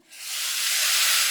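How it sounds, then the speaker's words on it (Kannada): Hot tempering poured into lemon rasam erupts in a loud, steady sizzle, a broad hiss that surges up almost at once and holds without a break. "ಸಾರಿಗೆ ಒಗ್ಗರಣೆ ಹಾಕುವ."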